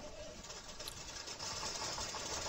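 A truck engine starts up in the off-road driving game Spintires, then settles into a low, steady running rumble that grows louder partway through and stays fairly quiet overall.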